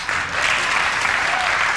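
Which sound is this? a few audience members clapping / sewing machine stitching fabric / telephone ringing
a few audience members clapping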